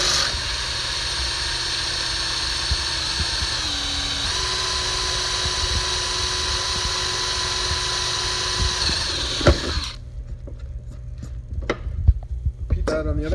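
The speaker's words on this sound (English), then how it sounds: "drill down through those with the 3/16" A power drill with a 3/16 bit bores through a gate's wheel plate, a steady whirring whine running for several seconds before cutting off, followed by scattered clicks and handling noises.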